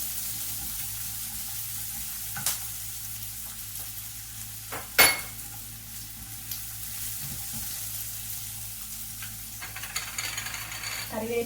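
Sliced onion sautéing in coconut oil with mustard seeds, a continuous frying sizzle broken by several scraping stirs and one sharp clatter of the spoon against the pan, without speech.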